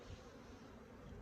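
A swarm of honeybees buzzes steadily around a hive in an apiary, a soft continuous drone with no voices, faint and even for the whole moment.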